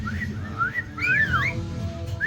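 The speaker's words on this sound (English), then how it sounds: "He wolf whistles the girls." A pet bird gives loud, clear rising-and-falling whistles up close, a few short whistled phrases with a longer wolf-whistle-like swoop in the middle, over a low steady hum of a room.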